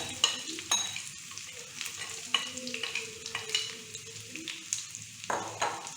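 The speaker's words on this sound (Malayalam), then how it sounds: "ഇനി നന്നായിട്ട് നമ്മൾ മിക്സ് ചെയ്തെടുക്കാം" Flattened rice (aval) mixture being stirred in a pan, a rhythm of repeated scraping strokes and soft clinks of a spoon against metal over a light sizzle, no voices.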